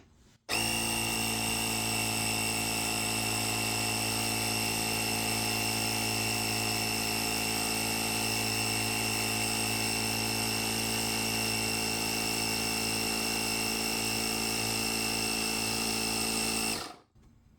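Gooloo A3 portable air compressor inflating a basketball to 8 psi, its motor droning steadily and loudly with a tonal buzz for about sixteen seconds before cutting off abruptly.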